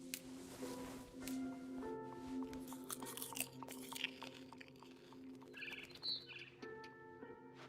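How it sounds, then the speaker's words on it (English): Barn swallow chirps and tweets in the video game What Remains of Edith Finch come in quick, repeated bursts, fairly faint, over a quiet background with some soft crunching sounds mixed in. "Then I heard chirping outside my window. It was a barn swallow going back to her nest."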